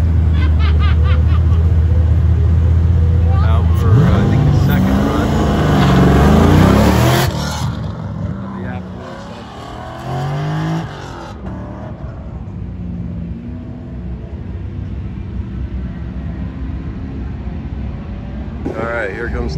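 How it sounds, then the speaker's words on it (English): Corvette race car on an autocross course: a loud engine revving and accelerating up close, then settling into a fainter, wavering drone as it moves off, with people talking over it. "here's the Nemesis Corvette"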